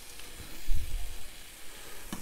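Mahi mahi sears on a Cinder grill with a soft, steady sizzling hiss close by, a few brief clicks or taps near the start and end, and no talking.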